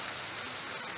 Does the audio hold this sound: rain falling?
yes